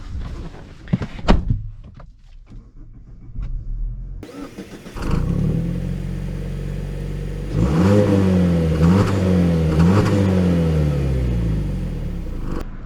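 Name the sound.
2023 Mazda CX-50 Turbo driving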